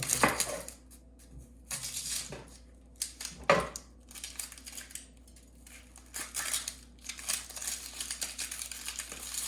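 Knife chopping through a medium-sized white onion on a cutting board, a series of irregular crisp cuts and crunches at close range, with short pauses between strokes and no talking.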